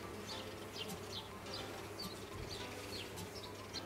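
Honeybees hum steadily around hive frames at an apiary, a dense close buzz with individual bees zipping past throughout.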